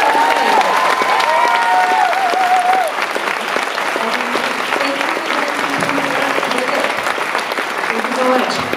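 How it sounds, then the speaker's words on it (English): At a university speaker-series event, a crowd gives sustained loud applause with some cheering and whoops, while a voice talks over the clapping. "a round of applause for Tegan and Sara."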